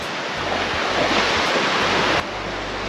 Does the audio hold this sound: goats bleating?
no